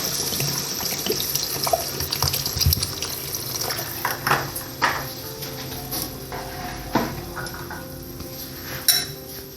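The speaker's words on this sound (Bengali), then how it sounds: "তারপর দিয়ে দেবো জল" Water poured into a cooking pot of soya pulao in a home kitchen, a splashing, running stream with clinks of metal utensils against the pot, close by.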